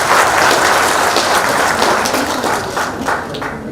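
Strong, steady applause from a large audience at a government programme's closing session, a dense wash of clapping that tapers slightly toward the end.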